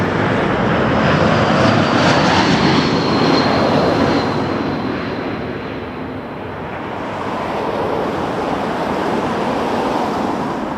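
An Embraer 195 airliner on Porto flight 302 from Vancouver at Toronto Pearson Airport, a loud, broad jet roar that swells early then eases and fades somewhat, heard alone without talk.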